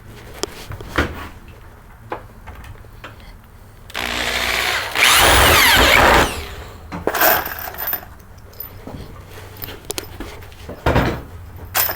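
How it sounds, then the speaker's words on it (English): A power drill drives screws into wood, giving two short bursts of whirring, with scattered knocks and handling clatter before and after. "so let's get some screws and screw these together"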